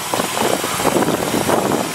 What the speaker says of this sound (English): 739cc motor. Starts right up, electric start.